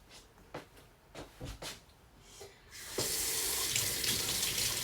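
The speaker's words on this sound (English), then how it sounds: "I am washing my hands." Kitchen tap turned on for hand washing, a few knocks and clatters followed by a steady loud rush of running water, close by and without speech.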